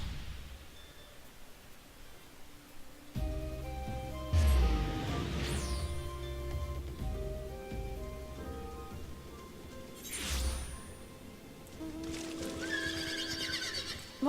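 A horse whinnies in the video game Final Fantasy XIV. Low rumbling and a rain-like hiss come first, then a loud, close neigh, another whinny a few seconds later and a further high squeal near the end, with clip-clopping hooves underneath.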